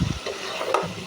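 Yardlong beans (borboti) frying in a pan are stirred with a brief scraping burst, followed by a soft, steady sizzle.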